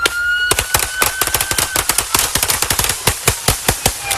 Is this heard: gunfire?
yes